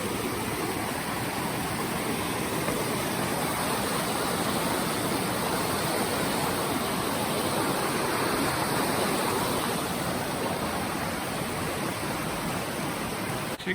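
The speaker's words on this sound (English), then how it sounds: "See the river down there, just filled up with water." River below a hiking trail near Stevens Pass, swollen and full of water, gives a steady, dense broadband rush that holds unbroken and fairly loud from start to finish, with no voices over it.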